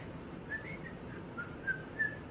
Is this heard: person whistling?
yes